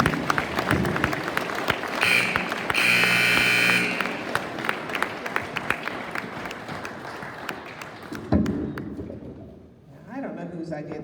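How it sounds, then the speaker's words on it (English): A loud electronic buzzer sounds for about two seconds at a memorial gathering, over a crowd murmur and scattered applause; a speaker's voice carries on around it. "I don't know whose idea the buzzer was, but it's a grand one"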